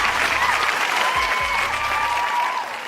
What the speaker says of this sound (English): Round of applause for all of y'all.